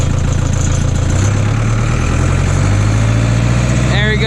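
A Case JX85 tractor engine runs steadily after shifting into third range, a loud, close diesel drone with a low rumble that rises slightly in pitch as it speeds up.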